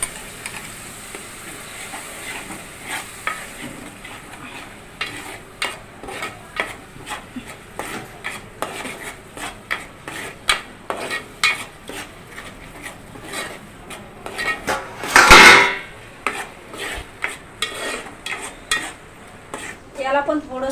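Egg fry curry masala roasting in oil in a pan, a continuous sizzle under frequent spoon scrapes and clinks against the pan, with one loud clatter midway.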